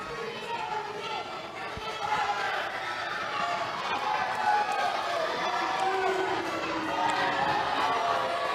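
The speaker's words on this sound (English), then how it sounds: "Crowd really letting Jay Davis hear it tonight." A live independent wrestling crowd at a UPW show jeers a wrestler, a steady wash of boos and shouts from the arena, with a commentator talking over the noise.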